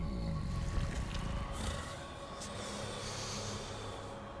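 A deep creature sniffing in the Dante's Inferno video game, a few loud, low breathy snorts up close at the start, fading into a rumbling ambient drone.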